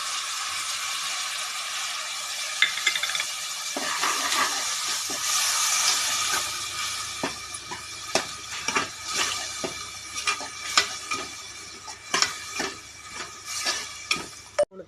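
A ground paste of ginger, garlic, coriander leaves, mint and green chillies frying with onions for mushroom biryani, a steady sizzle and hiss broken by repeated sharp scrapes and clinks of a stirring spoon against the pan.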